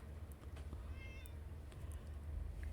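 Cat meowing in the video game Fallout 76, a few short high meows over a steady low background hum, moderately quiet.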